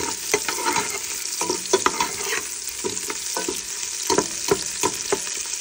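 A utensil stirs onions sautéing in a pan for a bottle gourd and misua dish, with repeated scraping strokes over a continuous close sizzle.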